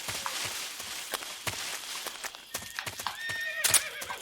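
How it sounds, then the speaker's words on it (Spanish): A horse whinnies in Metal Gear Solid 3: Snake Eater on PS3, its rising and falling neigh ringing out clearly near the end over steady game ambience and a few short footstep-like knocks. "¿Qué es un caballo?"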